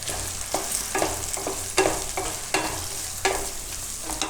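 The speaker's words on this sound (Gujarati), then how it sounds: "તો પહેલાં આને આપણે થોડુંક પકાવી લેવું તેલમાં ને તેલમાં, વચ્ચે વચ્ચે હલાવતા રહેવું" Potatoes and carrots frying in oil for a mixed-vegetable sabudana khichdi make a constant crackling sizzle, with a spoon scraping through them every half second or so, close and fairly loud, with no voices.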